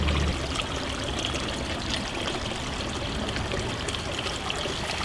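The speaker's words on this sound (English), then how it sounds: "collecting fresh water samples from this drainage pipe." Steady outdoor water flowing from a drainage pipe in Frick Park, a continuous pouring, trickling stream with no pauses, moderately loud and alone.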